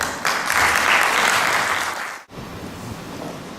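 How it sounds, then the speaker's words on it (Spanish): Audience applause welcoming a speaker at an academic presentation in Colima, a dense steady wash of clapping that fades briefly near the end and then resumes more softly. "La recibimos con un aplauso"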